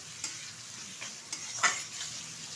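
Spices being stir-fried in oil for lentils cooked with Malabar spinach, a soft continuous sizzle with a few light scrapes of the spoon across the pan over a couple of seconds.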